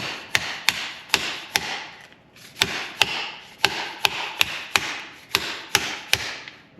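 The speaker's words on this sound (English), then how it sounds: "bushing lined up and driven down into the fork lower." A bushing is driven down into the fork lower of an old Shovelhead motorcycle, heard as a series of about sixteen sharp metallic taps at an uneven rhythm with a scraping rustle between strikes, close and with no talk.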